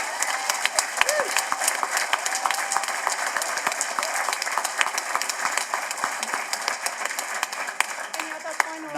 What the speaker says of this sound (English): let's just give a quick round of applause to Stratton House